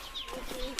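A pigeon kept at a small rural poultry and pigeon-rearing spot gives a brief, soft coo, close by, with a faint background hum and no speech.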